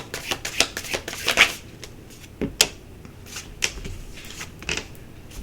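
A deck of cards is handled up close while a card is drawn, giving a run of soft riffling flicks and sharp snaps that come in irregular bursts, with no one speaking.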